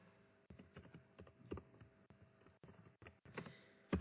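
Keys clatter on a computer keyboard in quick, uneven bursts of soft clicks. The typing is close but faint, with brief pauses between words.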